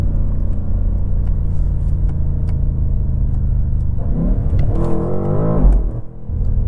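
Steady engine rumble from a 2024 BMW M8 Gran Coupe, then a surge as it revs and accelerates hard with rising pitch, ending in a brief crackle of exhaust burbles and a drop in volume.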